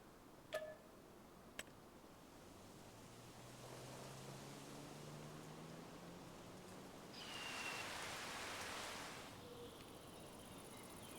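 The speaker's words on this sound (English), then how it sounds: "I like the rain effects." Soft, steady rain falls in the Farming Simulator 25 video game, a faint hiss that swells briefly midway, with a couple of sharp clicks near the start and a low rising tone beneath.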